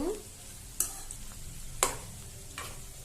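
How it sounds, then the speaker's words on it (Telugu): Eggs fry on low heat in a pan for egg pickle, with a soft, steady sizzle and three sharp scrapes or clicks of stirring spaced about a second apart. "చూసారా ఈ ఎగ్ ముగ్గులు ఎలా వేగుతున్నాయో ఇలా పొంగుతాయండి ఎగ్స్"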